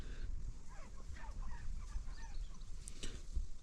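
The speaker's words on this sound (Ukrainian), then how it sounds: "Там лис якийсь курку їсть в зарослях" A chicken clucks and squawks in a rough outdoor setting near raspberry plots by a village house as a fox attacks it in the undergrowth, brief agitated calls over a low rumbling background.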